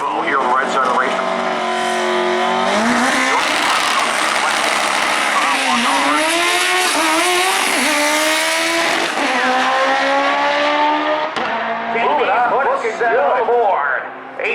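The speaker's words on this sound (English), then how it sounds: "Evo here on the right side of the racetrack" A Mitsubishi Evo race car at a drag racing track, Maryland International Raceway, roars loudly and continuously, its engine revving and sweeping up through the gears, while an announcer talks over it.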